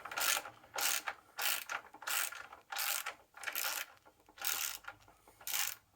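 A ratchet spanner clicks in steady bursts while tightening bolts on the rear independent suspension of a 1994 Jaguar XJS V12, about eight close, loud ratcheting strokes with brief pauses between them.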